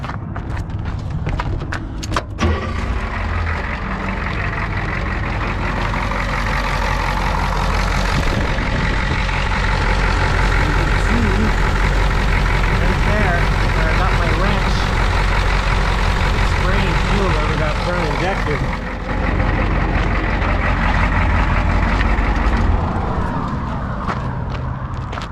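RV motor running at a steady idle after starting, a loud continuous low rumble throughout, with a few clicks and knocks near the start and a brief dip toward the end.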